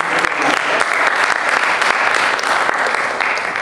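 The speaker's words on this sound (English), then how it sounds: "Give one more round of applause for Corey." Conference audience at an LGBTQ youth empowerment event giving Corey a round of applause, dense steady clapping from many hands that fills the moment evenly without letting up.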